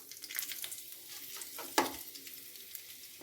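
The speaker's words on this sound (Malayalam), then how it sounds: "ഇനി നമുക്കതിലേക്ക് കുറച്ച് ഉഴുന്ന് പരിപ്പ് ഇട്ട് കൊടുക്കാം." Urad dal frying in hot ghee for podi idli: a steady, close sizzle and crackle with a sharp metallic clink from a stirring spoon partway through, and no voices.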